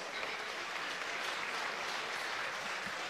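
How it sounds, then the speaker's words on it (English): A crowd at a live combat fight event applauds both fighters, a continuous, dense clapping from a large audience, steady and unbroken but fairly quiet overall. "A big round of applause, please, for both fighters!"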